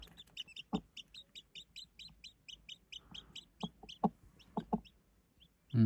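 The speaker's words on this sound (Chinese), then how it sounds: "我说怎么听到小鸡叫， 就是那1只小鸡。" A single newly hatched chick cheeps beside its mother hen in a mountain village, giving a rapid, regular run of thin high peeps, with a few low soft hen clucks underneath.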